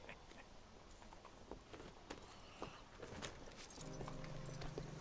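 Horse hooves clip-clopping at a walk in Red Dead Redemption 2 on PlayStation 4, soft and steady under game ambience, with a low droning tone joining near the end.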